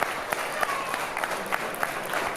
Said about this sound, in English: The crowd already appreciative of the efforts of Jay Garner, cheering for him